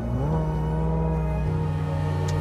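Ferrari F8 Tributo twin-turbo V8 with 710 horsepower and an 8,000 rpm redline, revving hard: a loud, steady rising engine note close to the listener, alone without talk.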